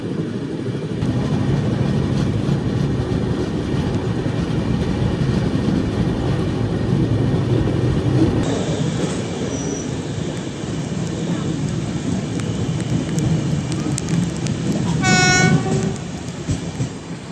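A Mumbai CSMT to Thiruvananthapuram express train runs through the rainy Bhor ghat between Pune and Mumbai, a loud continuous rumble of wheels and wagons with a short horn blast near the end.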